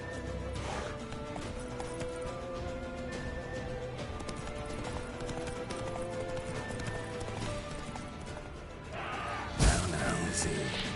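A horse in The Witcher 3 gallops with steady rapid clip-clop hoofbeats over continuous game music and ambience, a brief crash near the end.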